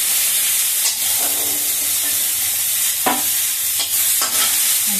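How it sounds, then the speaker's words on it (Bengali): Eggplant slices frying in oil give a constant close hiss and sizzle, broken by a few sharp spatters and clinks of a utensil. "প্রচণ্ড তেল টানে বেগুনে। বেগুন তো আমার ভাজতে ইচ্ছা করে না"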